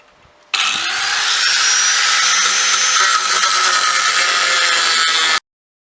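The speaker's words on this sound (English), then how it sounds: "I'm just going to grind this one out" Angle grinder cutting out metal on a pickup, a loud continuous high whine starting abruptly and running steady for about five seconds before cutting off, close up with no talk.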